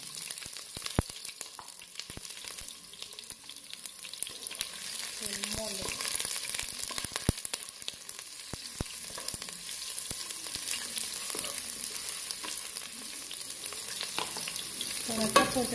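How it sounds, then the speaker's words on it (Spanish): Mole sauce hits an oiled pan holding translucent, softened onion, sizzling and frying steadily with occasional stirring scrapes, close and continuous with no talking. "Pues ya le voy a poner la salsita."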